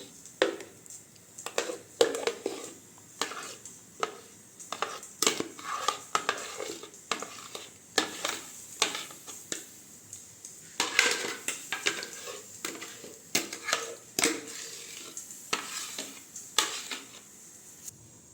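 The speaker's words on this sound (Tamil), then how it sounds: "இப்போ வந்து நம்ம அரைச்சிட்டு வந்துருக்கிறத வந்து இந்த பாக்ஸுக்கு மாற்றிக்கலாம்" A spoon scrapes and taps as strawberry ice cream mixture is moved into a box, giving steady, close clinks and scrapes of utensil against container with short pauses between them, and no talking.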